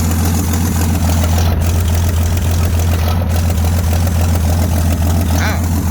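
A 1979 Jeep J10 engine idles steadily with its choke coming off after a revival, a loud, close, continuous low rumble with no talk over it.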